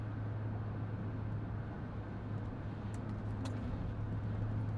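Steady road noise from a pickup or work truck rolling along a highway, a continuous broadband engine and tire rumble with a low drone, no talk over it.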